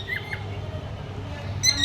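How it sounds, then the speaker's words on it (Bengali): Birds squawking outdoors near a house give a few short, faint calls early on and a brighter, sharper burst near the end, over a steady low background hum. "ওই যে পাখি দেখেন, পাখিগুলো"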